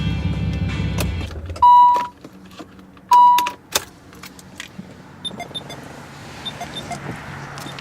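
A 1993 Nissan 300ZX Twin Turbo shutting down: engine idle cuts off, followed by two loud electronic warning tones, clicks and key jangling, then faint cabin noises in a quiet interior.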